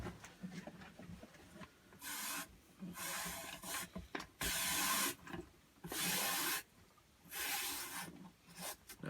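Brush bristles scrub cleaning gel inside a dirty muzzleloader barrel in slow, separate back-and-forth strokes, each a second or so of raspy friction, close but fairly quiet with brief gaps.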